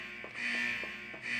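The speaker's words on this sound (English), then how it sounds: "That alarm is loud." A loud, steady electronic alarm blares aboard an exploding ship in the Parasite Eve video game, its high tone continuing without pause and pulsing faintly with rhythmic low thumps.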